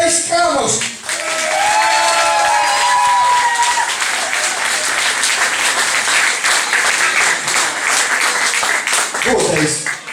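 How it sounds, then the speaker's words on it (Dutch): An audience at a carnival children's session applauds Thijs Cramer, Prince Thijs II; dense, loud clapping rises after a short spoken line and carries on steadily to the end. "Mag je één keer een applaus voor Thijs Kramers"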